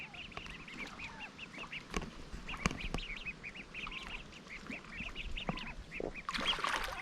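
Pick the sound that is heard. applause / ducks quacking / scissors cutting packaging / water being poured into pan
ducks quacking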